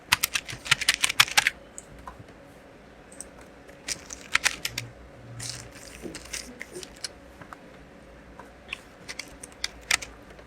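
Someone types code on a computer keyboard in quick, uneven bursts of clicky keystrokes, up close and loud, with brief pauses between runs and no talking.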